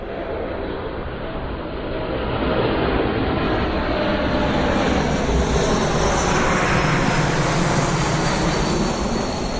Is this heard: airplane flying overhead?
yes